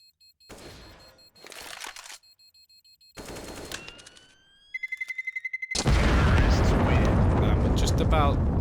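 Bomb detonation in Counter-Strike on the Cache map: a sudden loud, sustained explosive roar follows bursts of gunfire and a quickening series of beeps, with a commentator talking over it.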